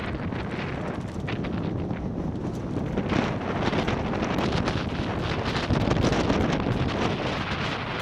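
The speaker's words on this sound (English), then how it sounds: "So it's a very windy day today." Strong wind buffets the microphone in a constant loud rumble and roar at Kongemindet Rytterknægten in Almindingen, Bornholm, Denmark, with gusts swelling throughout and no other sounds standing out.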